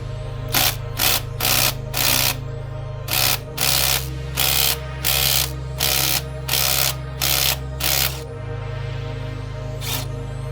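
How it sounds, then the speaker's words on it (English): An impact wrench undoes the crank pulley bolt on a Mk1 Ford Focus in loud, rapid hammering bursts, about a dozen short blasts in a row, over a steady low compressor-like hum. "I have a rattle gun though, so I'll make short work of this."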